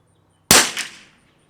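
A single sharp crack from a Lithgow LA101 rifle fitted with a CZ455 Walther barrel firing Eley Tenex ammunition, loud and close, followed by a short decaying echo in an otherwise quiet setting.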